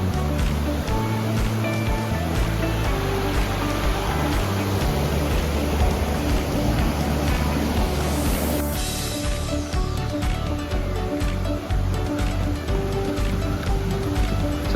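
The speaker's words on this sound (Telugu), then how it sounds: "గైస్ వాటర్ సౌండ్ ఏంటండి," At Hebbe Falls, water flows with a broad, steady roar that continues throughout, and a brief sweeping whine passes partway through.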